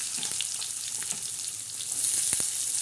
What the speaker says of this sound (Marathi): कांद्याचा तडका।